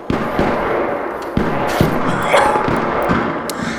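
Rapid gunfire in the video game Arc Raiders crackles in a busy, noisy mix, with sharp shots and thuds scattered irregularly throughout.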